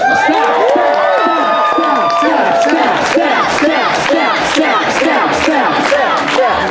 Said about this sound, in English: can I please get a cheer for the staff